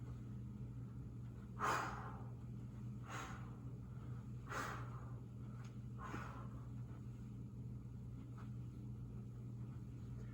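A person exhales during a twisting mobility exercise, four soft breathy puffs spaced a second or so apart over a steady low background hum, faint and close.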